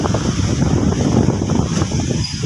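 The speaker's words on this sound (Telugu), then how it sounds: "గాలి విసేస్తూ ఉంది" Strong, steady wind roars and buffets the microphone in a constant rumbling rush, with no voices.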